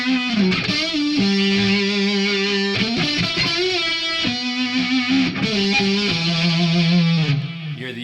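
Distorted electric guitar playing B pentatonic licks against E, a string of sustained bends and quick note runs with a saturated, effects-heavy tone.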